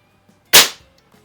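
A single sharp, loud crack from a Sheridan Blue Streak air rifle, very short with a quick decay, against near silence.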